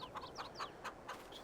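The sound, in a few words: chickens clucking in Farming Simulator 22 video game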